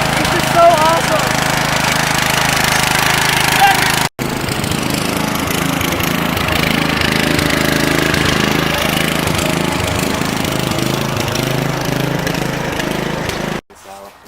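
A lawn tractor engine runs with a loud, rough, steady mechanical drone that breaks off briefly, resumes and then cuts out near the end, with people talking over it.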